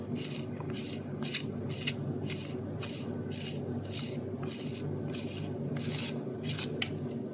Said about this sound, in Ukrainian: От Відкручуємо. Дуже легко відкручується.